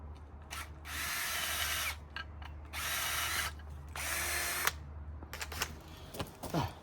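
Loud power drill runs in three sustained bursts of about a second each, separated by short pauses and some clicking handling noises.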